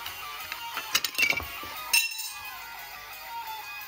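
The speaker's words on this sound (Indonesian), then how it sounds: "Iya, itu adalah suara patahan yang jatuh." A few small light clicks and clatters as a little broken-off plastic piece from a toy drops and bounces, brief and close, with quiet background between.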